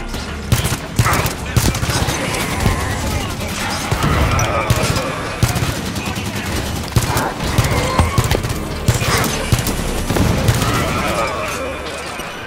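Auto turrets open fire in the shooter game Halo 5: Guardians, a loud, dense barrage of rapid gunshots and impacts that keeps going for over ten seconds, with voices talking over parts of it.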